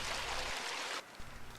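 Spencer Creek, a mountain creek near Mount Lougheed in Alberta, flowing as a soft hissing rush that cuts off partway, with low wind rumble around it and no voices.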